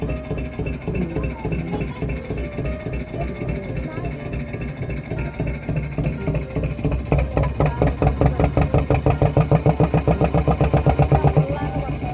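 A motorbike engine rumbles loud and close as the bike crosses a jetty in the Sundarbans, West Bengal, during a monsoon storm, throbbing steadily and then pulsing faster as it revs toward the end.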